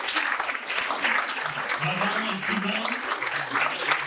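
Audience at a community talk applauding, sustained dense clapping throughout, with a voice speaking over it partway through.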